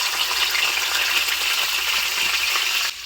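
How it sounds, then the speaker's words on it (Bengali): Fish fat sizzling in hot oil in a pan, a steady dense crackling fry, loud and close, with no talking. "তেলটা গরম হয়ে গিয়েছে, এবার মাছের চর্বি দিয়ে দেব।"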